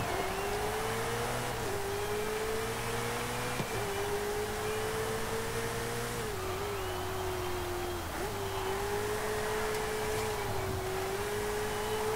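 Engine note of a 2020 Ferrari Roma in Forza Horizon 5, a smooth tonal hum that rises and dips as the revs shift, with brief throttle blips and gear changes across the stretch.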